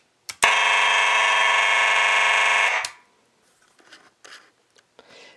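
Monaco Vulcan 1 fire alarm system going back into alarm after a reset attempt: a loud, steady buzzing horn tone for about two and a half seconds, then it cuts off and only faint clicks and handling sounds remain.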